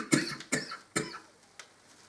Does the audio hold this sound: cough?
yes